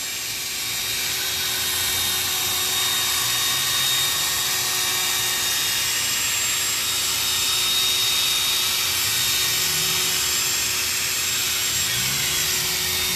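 A polishing machine whirs steadily at close range on a wet-sanded Golf Jetta R32 headlight, with a high whine and a faint grinding rub against the surface.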